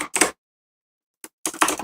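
Bursts of typing on a computer keyboard during a live forex trading session, short clusters of close clicks separated by a long silent gap.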